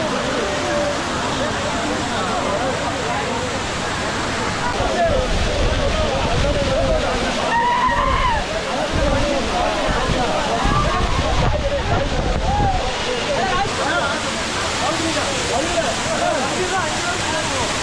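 Kutralam waterfall in South India during the monsoon, with people bathing beneath it. A loud, steady roar of falling water fills the whole stretch without a break, with faint voices now and then.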